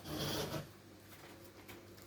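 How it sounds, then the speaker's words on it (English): A tarot deck shuffled by hand, a short rasping riffle of cards that is loudest at first, then softer rubbing and light taps, close and quiet. "so we'll shuffle the deck"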